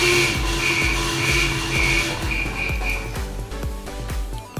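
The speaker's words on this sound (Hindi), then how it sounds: "और अब हम हॉर्न चलाएंगे तो ये देखें हॉर्न की आवाज़ है।" A Honda CD70 motorcycle with no battery sounds a weak, thin horn in short repeated beeps over its steady chugging idle, the horn fading out while the engine keeps thumping nearby.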